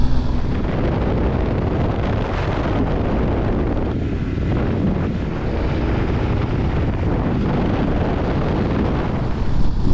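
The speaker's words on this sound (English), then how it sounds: "The wind's blown up a lot." Strong wind buffets the microphone while riding an adventure motorcycle on Tasmania's Western Explorer, a loud continuous roaring rumble mixed with engine and road noise throughout, no voices.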